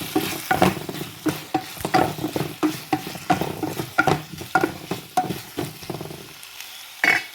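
Dried fish and potatoes sautéing in oil in a pan, sizzling under a series of rhythmic stirring scrapes, close and fairly loud, then a brief quieter stretch before one last stir.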